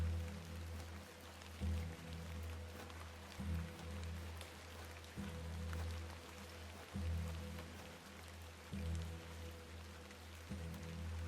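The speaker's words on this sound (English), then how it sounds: "Let's get out of the rain." Steady rain pours in the video game The Excavation of Hob's Barrow, a continuous wash of droplets with a low, rhythmic ambient drone beneath it, evenly loud throughout.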